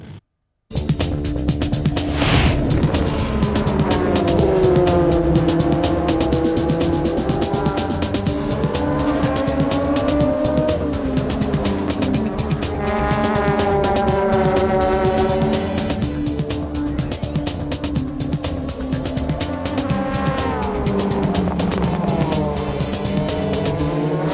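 DTM touring race cars scream past at full throttle in Barcelona, loud continuous engine roars with rising and falling pitch as several cars pass close by, with tyre noise and no talk.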